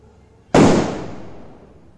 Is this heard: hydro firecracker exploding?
yes